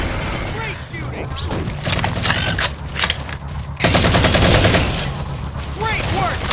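Machine gun fire in the Halo 4 campaign on PC, with rapid overlapping bursts that stay loud and close throughout and swell sharply near the middle, blended with game voices and effects.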